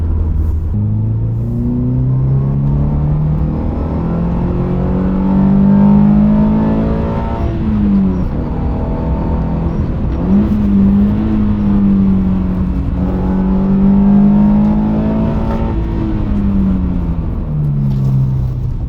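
A freshly rebuilt Subaru Impreza engine drones loudly from inside the car while driving, its pitch climbing and dropping through repeated rev-ups and gear changes. The steady rumble continues throughout, with no talking.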